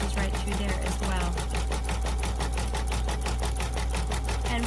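An embroidery sewing machine stitches through a floating stabilizer in a fast, steady, loud run of needle strikes close by, with a low motor hum underneath.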